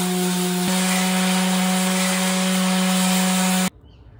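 A power sander works filler on a Star Wars thermal detonator prop, a loud steady whine with a constant hum that runs unbroken for several seconds and then cuts off abruptly.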